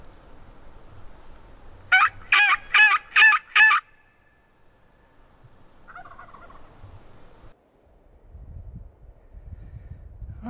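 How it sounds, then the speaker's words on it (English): A Merriam's wild turkey gobbler in the Black Hills of Wyoming gobbles in one fast burst of five rattling notes from down in a bottom, followed by a fainter brief call and then quiet outdoor ambience. "turkey gobbling down in the bottom"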